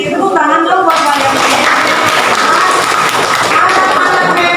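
A classroom of children clapping for themselves, a bright, busy patter of many hands close by that carries on steadily, with voices mixed in.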